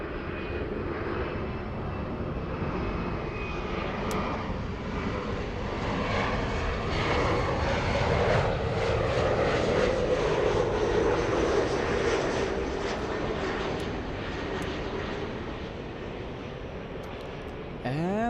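An airliner taking off from a runway at LAX, heard as a steady, loud jet engine roar that swells and holds for about eighteen seconds, broadband and continuous.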